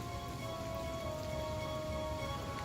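Light rain falls steadily outdoors, a soft, even hiss of drops at low level, continuous with no pauses.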